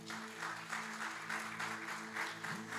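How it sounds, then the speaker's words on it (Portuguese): A church congregation claps steadily for a few seconds, a dense, even wash of applause with a faint hum underneath. "Você pode aplaudir a Deus por isso?"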